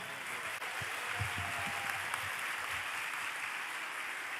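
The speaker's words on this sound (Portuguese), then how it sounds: "Pode ser melhor esse aplauso, hein?" A crowd claps steadily after a lecture on philosophy and Christianity in antiquity, a dense wash of applause that holds at an even level throughout with no voices on top.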